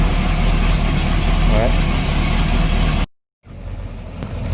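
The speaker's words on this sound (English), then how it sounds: "the noise from this engine is a lot smoother, a lot quieter" Smooth, steady idle of the inboard OMC engine in a 1987 Bayliner Cobra 2250 boat at a marina, with a low, even rumble, briefly cut off and then resuming more quietly.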